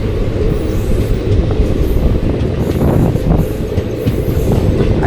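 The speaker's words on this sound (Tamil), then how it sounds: "ஸ்ரீரங்கத்துலேருந்து கிளம்பி போயிட்டுருக்கோம் பிளாட்ஃபார்ம்லேருந்து வெளியில்." A train pulls out of the platform at Srirangam station, heard from on board as a loud, steady rumble with wheel clatter and faint squeals.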